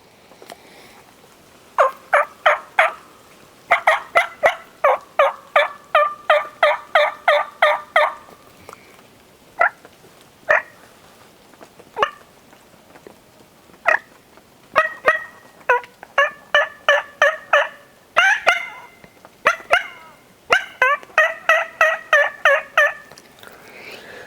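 A person imitates turkey yelps with a Split V Revolution mouth call, producing clear, raspy repeated yelp series in bursts of several notes with short pauses between, close and prominent in a quiet setting.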